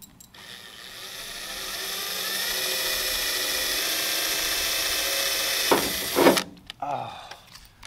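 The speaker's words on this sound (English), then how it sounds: "Go to the little drill bit, drill it out." Power drill with a small bit boring a hole into the underside of a Ram R/T during exhaust work, a steady close whine for several seconds, then clunks and handling noise as it stops.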